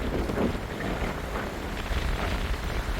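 Strong gale-force wind buffets the microphone while cycling the Jeju coastal bike path near Pyoseon beach, a loud, continuous roaring rumble with gusty swells and no voices.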